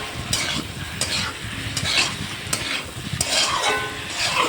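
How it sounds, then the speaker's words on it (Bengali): Masala for a Bengali fish curry (macher jhol) sizzles and fries in a pan while a spoon stirs it in steady repeated scrapes, close and fairly loud, with no talking. "সুন্দর সুন্দর মশলাটা কষিয়ে নিচ্ছি"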